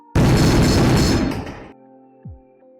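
A loud, sustained booming blast rumbles for over a second and cuts off, followed by a short low thud, like artillery fire.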